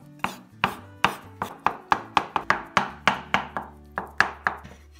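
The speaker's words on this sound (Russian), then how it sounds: "Белок нарезаем." A knife chops boiled egg whites on a cutting board in a quick, even series of about fifteen sharp thuds, close and clear with no talking.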